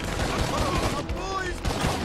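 Rapid gunfire bursts in GTA Online crackle close by in a dense, continuous volley, with a voice speaking over the shots.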